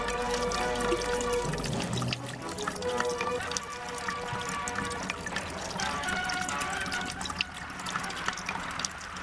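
Water pours and trickles in a domestic scene from an Iranian drama serial, a steady splashing flow that runs throughout, with voices speaking over it and a low hum at the start.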